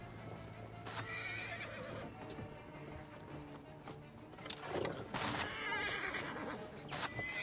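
Horses neigh and whinny in alarm with clip-clopping hooves as a lion attacks them in the video game Assassin's Creed Origins, calls rising loudly toward the end over a busy game backdrop.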